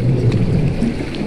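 Low, rumbling wash of seawater churning and sloshing inside a sea cave, a steady loud roar with no voices.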